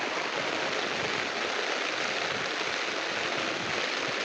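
Steady rainfall during the monsoon month of Shraban in Gopalganj, a dense continuous hiss of drops pattering on surfaces throughout, even and moderately loud with no voices.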